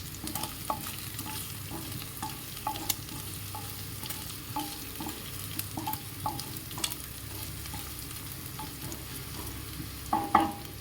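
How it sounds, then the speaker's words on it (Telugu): Crushed ginger and garlic frying in a pan for a cauliflower paneer fried rice, a steady sizzle broken by repeated clinks and scrapes of a spoon stirring against the pan, louder toward the end. "క్రష్ చేసుకున్న అల్లం వెల్లుల్లి వేసి దీన్ని కూడా వేయించాలి"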